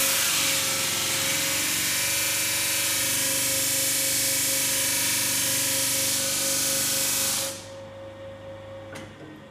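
A sander mounted on a jig sands a 45-degree edge on a wooden piece for a torch box, running as a loud, steady close whir with a rasping hiss before cutting off near the end.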